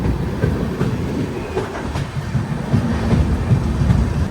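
Indian passenger AC express train pulling into Nagaur station, a steady low rumble and rhythmic clatter of wheels over rail joints heard from inside the coach, with no talking.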